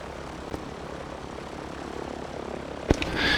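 A Grumman F4F Wildcat's piston engine and propeller idling with the throttle being advanced before taxi, a steady low drone that swells slightly near the end, with a couple of sharp clicks.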